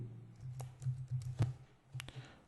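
C code being typed on a computer keyboard: a quiet, close run of soft key clicks in an irregular rhythm, with a few sharper taps standing out.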